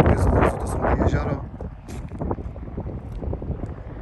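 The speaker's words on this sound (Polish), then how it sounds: "Jest straszny wiatr, bo polatałbym sobie nad tym dronem" Strong wind buffets the microphone beside a dried salt lake near Larnaca, a loud continuous roar that is heaviest at first and then settles into steady gusting.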